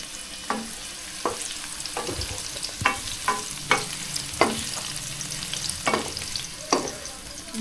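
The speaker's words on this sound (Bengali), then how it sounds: "পেঁয়াজ দিয়ে দেবো।" Onion fries in hot oil in a pan as the base of a masala for spicy golda chingri bhuna, a continuous close sizzle broken by repeated sharp scrapes and knocks of a spatula stirring at an irregular pace.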